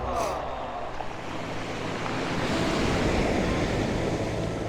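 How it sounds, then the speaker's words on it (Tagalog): Strong ocean waves rolling onto a shore make a steady, loud, broadband roar of surf, blended with wind rumbling on the microphone, with no voices. "Hindi pwede malakas yung alon"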